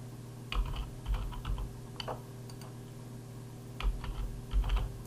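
Typing on a computer keyboard while entering text in Microsoft Word, quiet close clicks in two short bursts separated by a pause.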